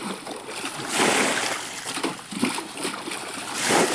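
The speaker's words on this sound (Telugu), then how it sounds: "ఈ నీళ్ళని మొత్తం పోసేసుకోవాలి పోస్తాను" Muddy water is bailed and poured out of a small pond while fishing for large murrel, giving loud, close splashing and sloshing that surges in repeated bursts.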